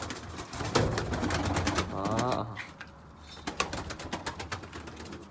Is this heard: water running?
no